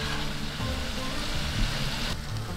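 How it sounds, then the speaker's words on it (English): Food frying in a pan outdoors on an overland camping trip sizzles steadily and loudly up close, a continuous crackling hiss with low rumbling underneath. "and then they can start frying properly"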